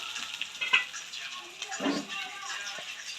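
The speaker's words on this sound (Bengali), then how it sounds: "পেঁয়াজটা ভাজা ভাজা হয়ে গেছে" Chopped onion sizzles softly in hot mustard oil, a low steady crackle with a few stirring scrapes of a spoon in the pan, fairly quiet and continuous.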